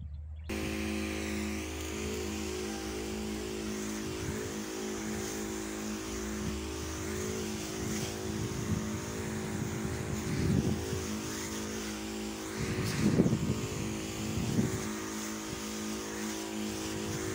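A small motorized crop sprayer engine drones steadily at close range in an eggplant field, a constant buzzing hum with occasional swells in intensity, running on its own without talk.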